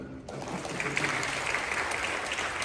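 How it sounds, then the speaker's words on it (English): An audience at a community forum breaks into steady applause, a dense, continuous clapping that starts abruptly and holds at an even level. "Could you help me just give them a round of applause for that?"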